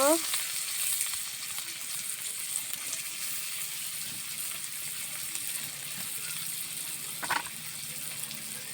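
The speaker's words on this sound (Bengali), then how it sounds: "এখন পেঁয়াজ কুচি দিয়ে দিব।" Chopped onion frying in hot oil in a home kitchen, a continuous low hiss and crackle of sizzling, close and fairly quiet, with a brief clatter near the end.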